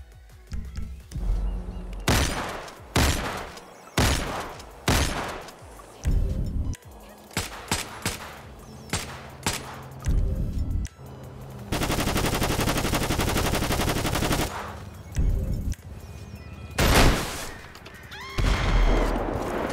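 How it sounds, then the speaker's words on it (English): Loud, close gunfire from GTA 5 running the Redux graphics mod, with repeated single shots and short bursts, then a long sustained automatic stream, followed by more scattered shots. "So this is what the gun sounds like right now."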